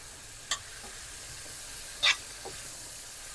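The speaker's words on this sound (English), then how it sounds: "So now I can go ahead and add my chickpeas." Drained tinned chickpeas dropped into a pot of Moroccan chicken curry, with a couple of short soft clatters and a steady low simmering hiss underneath.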